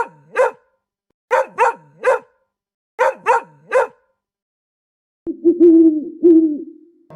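A cartoon dog barks loudly and close in a rhythmic pattern, one bark and then two quick sets of three, followed by a lower, drawn-out growling sound.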